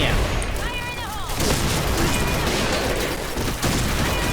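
Honey Badger light machine gun firing in the Point Blank shooter game, a loud, dense rattle of rapid shots with booming impacts, continuous across the clip alongside other game effects.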